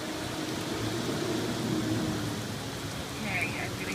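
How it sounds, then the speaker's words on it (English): Heavy rain pours steadily onto a garden in Central Texas on a June morning, making a dense, even hiss that holds at a constant level throughout, with a faint voice briefly audible beneath it. "Raining so hard."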